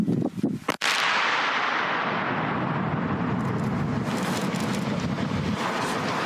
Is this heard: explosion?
yes